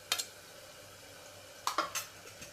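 Ginger and garlic are being stirred into dal in a kitchen pot, giving a few brief metallic scrapes and clinks, one near the start and a cluster later, over a faint background.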